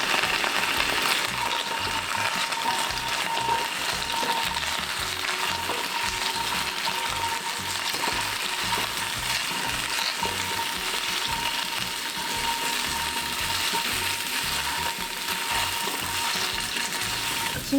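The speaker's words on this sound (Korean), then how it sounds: "그래서 감자를 이렇게 볶아줍니다." Small potatoes fry in oil in a pan, giving a continuous, even sizzle and crackle mixed with scraping and clicking as they are stirred, with no voices.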